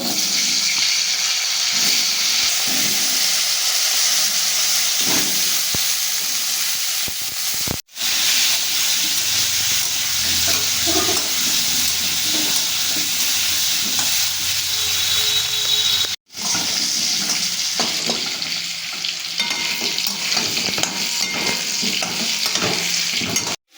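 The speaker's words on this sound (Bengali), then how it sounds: "এবার আমি আলুগুলোকে ভেজে নেব।" Potatoes fry in hot oil with a strong, continuous sizzle and occasional stirring scrapes, broken by two brief silent cuts.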